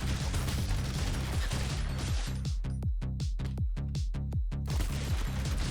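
Shotgun blasts from the roguelike game Noobs Are Coming fire in a quick series of about eight sharp, punchy shots, each with a short falling tail, over a steady backdrop of game music and effects.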